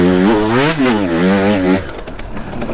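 A two-stroke enduro motorcycle engine revs hard on wet, flooded trails, loud and close, pitch rising and dipping through several throttle sweeps before dropping into rough, splashy clatter.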